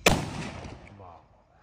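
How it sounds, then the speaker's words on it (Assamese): A homemade carbide gun fires a single sharp, loud blast that rings out and fades over about a second, with no other sound around it. "ৰ'বা ফুটাই দেখাই আছোঁ। আৰু এতিয়া এইটো কাৰ্বাইড গান"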